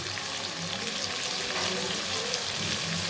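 Onions and tomatoes fry for a mutton and potato curry, a loud, steady, dense sizzle in the pan with faint stirring underneath.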